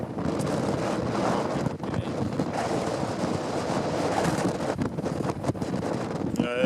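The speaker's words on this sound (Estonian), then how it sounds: "wind is 22 meters per second" Strong gale-force wind at Kallaste beach on the Estonian shore of Lake Peipus, around 22 meters per second, roaring and buffeting the microphone in a steady, loud, continuous rush with gusts and no voices.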